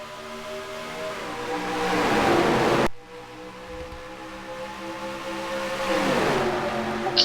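Race cars pull away at the green flag of the SunTrust 500 at Atlanta in a racing video game, with a dense engine roar that swells, drops abruptly and builds again as the pack accelerates.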